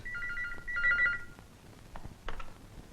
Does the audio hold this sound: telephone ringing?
yes